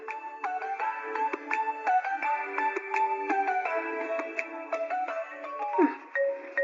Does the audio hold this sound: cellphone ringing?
yes